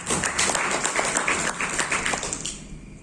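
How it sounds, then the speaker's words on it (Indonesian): An indoor audience at a photography workshop claps for a participant, a burst of steady applause that starts strong and fades out over about three seconds. "Tepuk tangan untuk mas Muslim."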